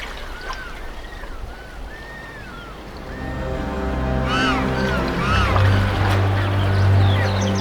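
King penguins in a large Antarctic colony give repeated rising and falling trumpeting calls, scattered and overlapping, over a low steady drone.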